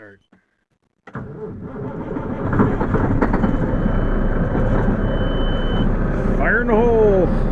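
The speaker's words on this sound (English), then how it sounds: "Let's see if this truck will start." A logging truck's engine cranks and catches after a second of quiet, settling into a loud rumbling idle that builds and holds steady, with a brief rising whistle near the end.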